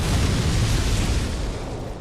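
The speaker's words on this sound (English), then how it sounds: "Lot of explosions." Explosions in Dark Souls 2 with a randomizer, a dense continuous roar of booming blasts, loud and close, with no talk.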